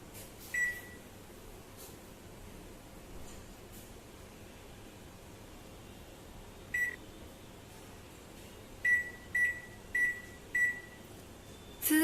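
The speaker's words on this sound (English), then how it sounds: "So we'll be putting it in the microwave at the temperature of 600 degrees Celsius for around 1 minute to get it caramelized." A microwave oven caramelizing custard, its steady low hum running throughout, with several short electronic beeps near the end.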